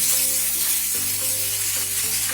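Boiled onion paste sizzling hard in a hot pan for a Baghdadi chicken curry, a steady loud frying hiss with faint stirring underneath, no voices.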